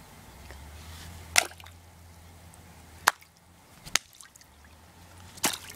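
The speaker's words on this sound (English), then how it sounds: "the next thing we're going to do is throw them in the cooler that is full of water" Wallets thrown into a cooler full of water make four brief, sharp splashing impacts at irregular intervals. A faint low hum runs between the splashes, and no one speaks.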